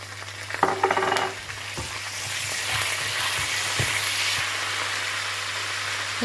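Fenugreek seeds, vadagam and curry leaves frying in hot oil, a sharp spatter at the start that settles into a steady sizzle with occasional stirring knocks.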